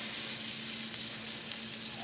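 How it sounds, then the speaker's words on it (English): Salisbury steaks fry in a couple teaspoons of butter in a pan, giving a continuous, fairly quiet sizzle with no talking. "we're cooking these in butter"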